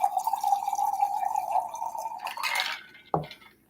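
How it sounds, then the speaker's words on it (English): A drink pours into a cup with a rising gurgling tone that ends in a brief splash and a light tap, close and fairly quiet, with no speech. "I'm going to pour our drink into the cup."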